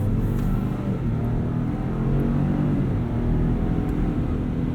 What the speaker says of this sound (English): Holds higher revs, your throttle response is increased